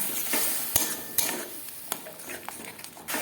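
Spice paste being stir-fried with ginger-garlic water in a pan, a steady sizzle under scraping and stirring, with sharp clinks of a utensil against the pot.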